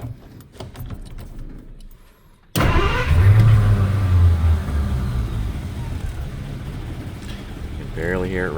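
A 1937 Packard 120C sedan's eight-cylinder engine catches abruptly after a quiet stretch and then idles smoothly and quietly, a low steady hum with faint mechanical clicks.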